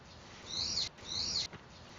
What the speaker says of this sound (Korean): 새소리도 들어가고